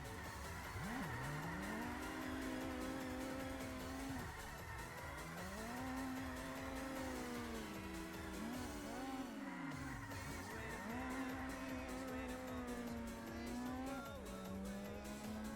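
Mazda Miata and Toyota AE86 racing cars in a team battle, engines revving up and dropping repeatedly through gear changes with tire squeal, close and loud, continuous over the stretch.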